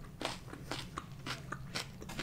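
Someone crunches through celery sticks during a Wingstop wing-eating session, a run of about eight sharp, crisp bites and chews in quick rhythm, close to the mic and fairly quiet, with no talking.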